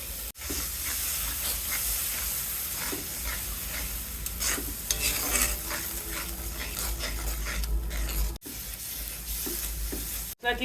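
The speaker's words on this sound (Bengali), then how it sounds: "সামান্য একটু জল দিয়ে কষিয়ে নেব" Spice paste with turmeric and a little water is sautéed in a pan, giving a soft continuous sizzle and hiss with intermittent stirring scrapes, close and moderately quiet, with no talking.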